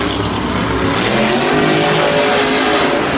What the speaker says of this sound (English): Colton Eichelberger in the Gravedigger monster truck is behind as Darren Basil's pulling ahead, but he pulls a slap wheelie.